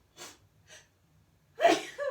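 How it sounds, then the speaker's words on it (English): Two quick sharp inhales, then a loud, close sneeze burst with a short trailing exhale. "Oh, I'm gonna sneeze."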